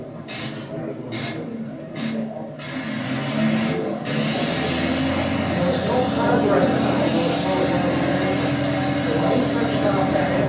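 An early airplane's propeller engine starts up at an Ogdensburg aviation event and settles into a loud, steady droning roar, with a few sharp bursts before it catches and voices talking underneath.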